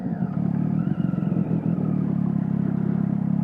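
A Triumph Street Triple 675 motorcycle engine idling and burbling through its exhaust, a steady, close, low rumble with a brief clattering blip of throttle early on before settling into an even idle.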